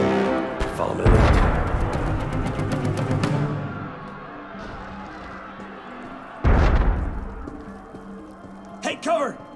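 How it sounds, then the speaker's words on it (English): Two heavy booming cannon blasts in the video game Assassin's Creed Unity, several seconds apart, each followed by crackling debris and rumble. "That was cannon fire."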